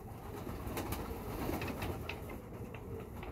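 Schalie pigeons coo softly in a steady, low murmur, with a few faint higher chirps and rustles mixed in; no one speaks.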